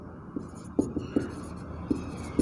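Chalk taps and scratches on a classroom blackboard in a series of short, fairly close strokes, with no talking.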